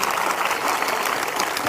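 Steady applause from a church congregation, dense continuous clapping from a large crowd filling the hall at an even, moderate level.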